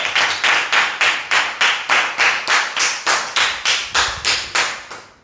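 A group claps in unison for a birthday, about sixteen crisp, evenly spaced claps in a steady rhythm with no talking over them.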